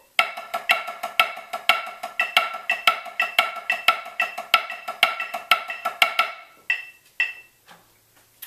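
Snare drum playing an accented triplet grid pattern, a steady stream of crisp, close strokes with regular louder accents, ending in a few sparse hits.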